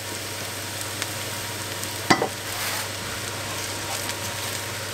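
Bulgur with noodles fries in a pan in a home kitchen, giving a steady close sizzle with one brief stirring clatter partway through and no talk.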